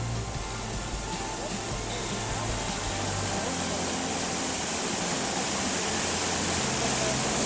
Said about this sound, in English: you'll have a view of this 60-foot waterfall as soon as you step out of your car